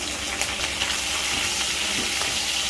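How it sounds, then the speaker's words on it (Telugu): Garlic and green chillies frying in a pan, a steady close sizzle and crackle with small spitting pops running throughout, no voices over it. "బాగా ఫ్రై కావాలి"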